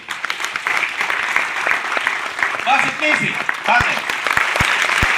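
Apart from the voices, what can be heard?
audience applause at a meeting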